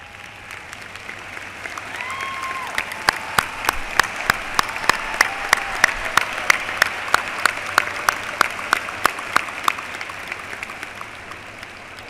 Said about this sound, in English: Would you please rise and give them all a big round of applause?